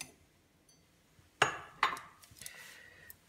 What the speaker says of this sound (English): If possible, one big ice cube.